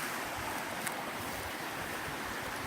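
Steady rushing water from a stream flowing through a mossy beech forest, a continuous close wash of noise with no voices.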